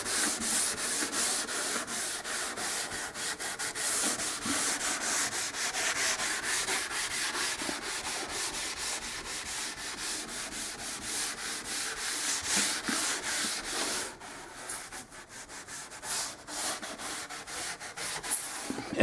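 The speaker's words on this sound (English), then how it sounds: "just a light scuffing." Light scuff sanding on a wooden kitchen cabinet: close, continuous rubbing strokes of abrasive on wood, slightly quieter and more broken near the end.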